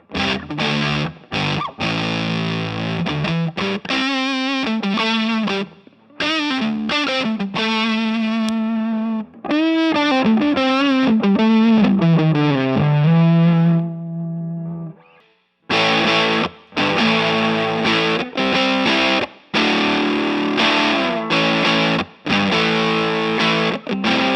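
An electric guitar plays through a TS-based overdrive pedal fitted with a Burr-Brown op-amp, giving loud, sustained distorted chords and melodic runs with a brief silent break midway before the crunchy riffing resumes.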